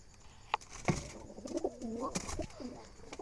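Jalali pigeons cooing in a loft, a soft, throaty series of rolling coos spread across a few seconds, with a couple of sharp knocks and faint movement around them.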